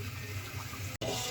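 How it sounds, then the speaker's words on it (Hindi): Water is poured into a pot of browned chicken and meat for biryani, a short steady rushing stream close by, cutting off abruptly near the end before a brief continuation. "अब इसमें मैं पानी डाल रही हूँ।"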